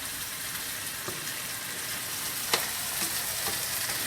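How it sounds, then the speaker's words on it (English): Chicken pieces frying and browning in a pan for chicken marsala, a steady close sizzle with a few faint clicks of a utensil against the pan. "Now that's browning up nicely."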